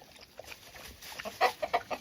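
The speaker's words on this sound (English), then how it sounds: "Lena, you drinking the water I brought for the chickens?" Chickens cluck in short, scattered bursts, fairly faint and close, with soft background noise between the calls.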